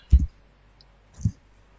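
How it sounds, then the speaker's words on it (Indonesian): Two short, solid keystrokes on a computer keyboard, likely the up-arrow key, tapped about a second apart in an otherwise quiet room with no talking. "kalian bisa menekan panah atas ya pada keyboard"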